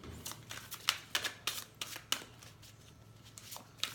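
A deck of tarot cards being shuffled by hand, a run of crisp riffling snaps and soft slides in uneven bursts, close and quiet against a faint low hum.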